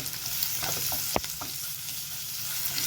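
Turmeric and ginger-garlic paste fries in oil in a pan for a ridge gourd and moong dal curry, a soft steady sizzle with a few quick scrapes of stirring near the middle, no talking.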